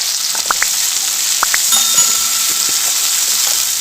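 Onion and long-cut tomato pieces sauté in a pan for an egg kurma, a steady close hiss of frying with a few quick stirring taps early on.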